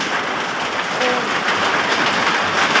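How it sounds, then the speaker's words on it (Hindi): Heavy rain falling steadily outdoors as a dense, continuous wash of noise, loud and unbroken, with a faint voice briefly heard beneath it. "बारिश बहुत हो रही है तो मेरी आवाज़ आपको नहीं आएगी"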